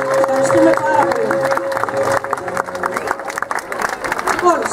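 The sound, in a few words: applause for the children of Senti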